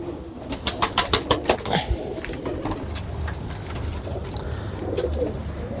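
Medium-sized pure Kamagar Teddy pigeons coo softly and close by, with a quick burst of sharp wing flaps early on and then a steady low murmur of cooing.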